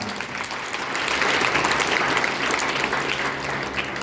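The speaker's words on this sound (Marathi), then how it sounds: "पहिल्यांदा सगळ्यांनी टाळ्या वाजवा" An audience at a district student camp claps for a student's parents, a thick, continuous wash of many hands beating steadily throughout without a break.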